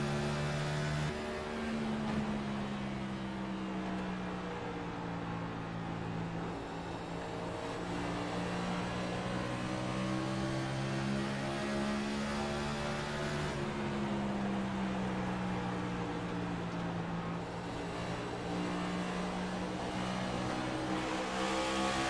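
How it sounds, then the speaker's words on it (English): A Next Gen race car engine drones loudly and continuously, its pitch climbing and dropping as it revs through gear changes, heard on board at Iowa's steep track. "Hear the shifts, hear how this engine sounds."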